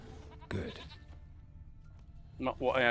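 A goat bleats in The Witcher 3, two short wavering cries separated by a quiet gap, the second louder and more drawn out, fairly close.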